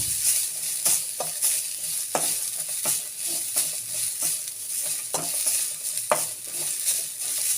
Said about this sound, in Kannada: ತೆಂಗಿನಕಾಯಿನೂ ರೆಡ್ ಚಿಲ್ಲಿನೂ ಹಾಕ್ಬಿಟ್ಟು ಒಂಚೂರು ಫ್ರೈ ಮಾಡಬೇಕು